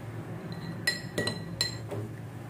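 A spoon stirring a honey and apple mixture in a glass, giving several sharp clinks against the glass at irregular intervals over a low background hum, close and moderately loud.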